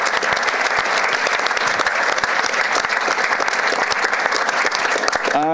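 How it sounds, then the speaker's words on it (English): An audience at the Smart Green Island Makeathon 2026 opening applauds warmly for sponsors from Beckhoff, steady dense clapping from a sizable crowd throughout, with a voice starting just at the end. "A warm applause for our friends from Beckhoff."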